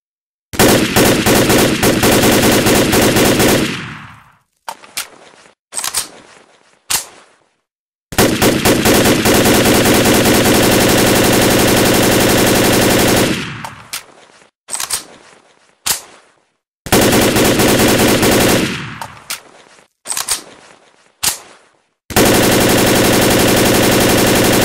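A big rifle fires in a video game in long sustained automatic bursts, each several seconds long, separated by short gaps with a few single shots. The bursts are loud and close, with no talk.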